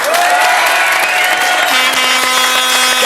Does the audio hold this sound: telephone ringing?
no